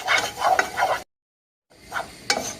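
Flour stirred and toasted in a pot for restaurant-style lentil soup, a spoon scraping steadily with faint sizzling, close and moderately loud, stopping for a silent gap before resuming.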